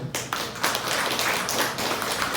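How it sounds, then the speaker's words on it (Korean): A studio audience at a Korean talk show breaks into dense, steady applause, many hands clapping together at close range for the whole stretch with no voices over it. "박수 한번 줄까요?"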